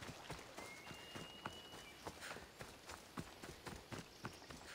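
Horse hooves clip-clopping in Assassin's Creed Odyssey, a quick steady rhythm of sharp hoof strikes at a trot, close and clear, with no talking over it.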